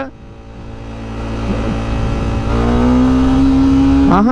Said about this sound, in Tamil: இந்த எக்ஸாஸ்ட் நோட் வந்து உண்மையாக ஒரு டிஃப்ரென்ஸை க்ரியேட் பண்ணுதுங்க